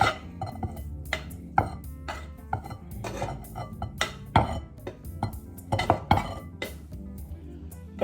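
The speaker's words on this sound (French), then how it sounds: "Je reverse le tout dans le saladier." Cooked minced meat, onions and potatoes for korokke are tipped from a pan into a salad bowl, giving a series of sharp metallic clinks, scrapes and knocks of a utensil against cookware, fairly close and irregular.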